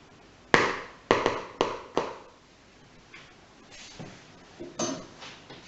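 A utensil works salt into pizza base ingredients in a bowl, giving a run of sharp scraping knocks, four strong ones up front and softer ones trailing after.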